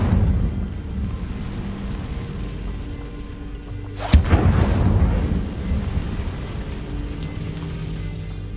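An Incendio fire spell is cast in the video game Hogwarts Legacy: a sudden loud whooshing burst erupts midway, flaring briefly before settling back into the steady game ambience and tonal background.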